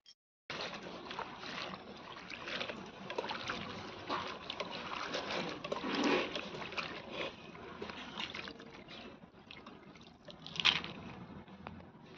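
Red amaranth greens are washed by hand in water, a continuous close splashing and swishing with trickling water throughout and a brief louder slosh near the end.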